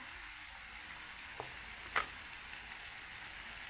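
Tomato masala for moong dal sizzles steadily in a pan, a constant close frying hiss with two brief stirring scrapes in the middle.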